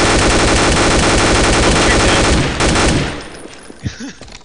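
Rapid automatic gunfire in a Garry's Mod game, loud and continuous for a few seconds before tapering off, leaving a quieter tail with a couple of faint thuds.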